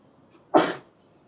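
A single sneeze bursts out in a quiet classroom, one short sharp blast that trails off quickly against faint room background.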